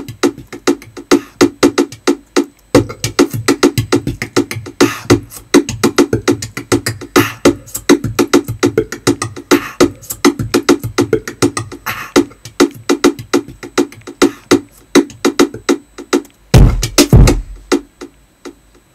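A chopped loop from a music sample plays as a steady, busy rhythmic pattern of dense repeated hits, continuous and fairly loud throughout, with a brief low swell near the end.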